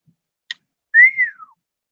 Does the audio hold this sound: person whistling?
yes